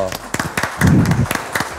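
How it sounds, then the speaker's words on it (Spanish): Studio audience on a television show claps in a short, scattered burst of applause welcoming a singer, with individual claps audible and a host's voice over the clapping. "fuerte el aplauso"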